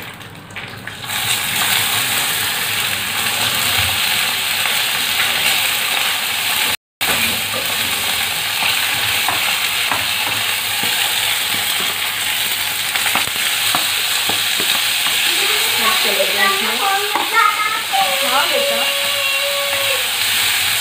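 Mustard seeds and curry leaves fry in hot oil for poha, making a loud, steady sizzle that runs for a long stretch, cut by one brief silence, with someone talking over it near the end.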